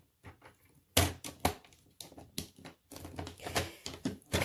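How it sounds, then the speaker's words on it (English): A blade slices through So Saffron cardstock on a cutting mat, producing a series of close, sharp scraping and crunching strokes in an uneven rhythm, with brief pauses between cuts. "I'm going to cut that on the diagonal as well"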